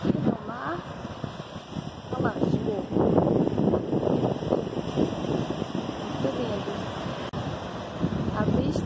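Sea waves and wind at Grumari beach in Rio de Janeiro, a steady rush of surf and gusty wind buffeting the microphone during a coastal walk, with people talking over it throughout.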